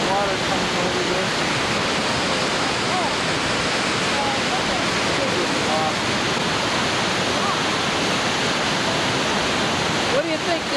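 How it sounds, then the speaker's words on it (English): The Upper Falls of Yellowstone roar with a constant, dense wash of falling water, loud and unbroken, filling the whole scene with steady broadband rushing. "We're at the upper falls of Yellowstone."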